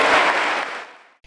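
An audience applauds a folk ensemble: a loud, dense burst of clapping that fades out within about a second, followed by a short faint noise.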